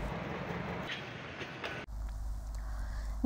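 A passenger train running from Benarpara toward Parbatipur station rumbles past at a Dhaka Mor level crossing, a steady near roar shifting into a deeper low drone partway through, with no one speaking.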